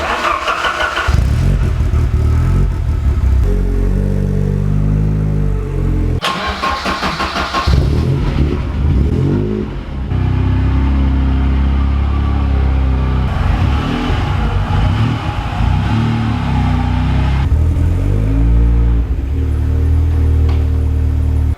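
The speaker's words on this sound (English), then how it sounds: "let's pull this car out the garage, spin this round, put that back in." Ford Sierra Sapphire RS Cosworth engine as the car is pulled out of a garage and turned around: a loud, close engine running throughout with repeated revs and shifts in pitch, a sharp burst near the middle, no talk.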